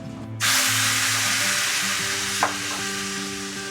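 Loud, continuous sizzling of meat being stir-fried in a hot wok, a bright hiss starting abruptly with faint tonal hum underneath.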